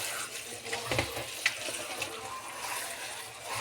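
Tap water runs steadily into a sink while leafy vegetables for a dish of labong (bamboo shoots) and saluyot are rinsed, a continuous close splashing hiss with a few brief clinks, no talking.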